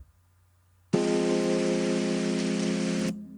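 A rain sample played back in Ableton Live for a lofi beat starts abruptly as a loud, dense, even hiss of falling rain, runs steadily for about two seconds, then cuts off sharply.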